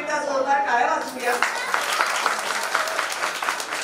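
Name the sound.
applause at a naming ceremony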